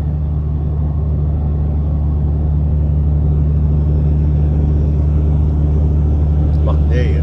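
Steady, loud in-cab engine drone and low rumble from a truck driving toward Moncton, continuous and even throughout, with a brief clink near the end.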